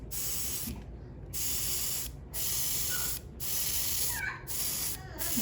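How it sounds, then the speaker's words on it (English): Airbrush hissing in short, steady bursts as paint is misted lightly over tabletop miniatures, the spray stopping and starting several times with brief silent gaps, close and fairly quiet. "I'm just gonna go ahead and spray all over, but I'm doing it lightly."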